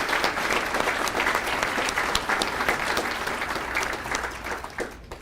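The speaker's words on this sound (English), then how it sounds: "Give yourselves a round of applause." Audience applauding at a student all-stars awards reception, steady dense clapping sustained throughout before tapering off at the very end.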